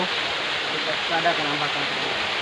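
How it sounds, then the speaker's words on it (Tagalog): Steady rushing roar of a waterfall at a river picnic spot, a continuous broadband wash of falling water with a voice talking over it. "Diyan kami maliligo ngayon. Falls."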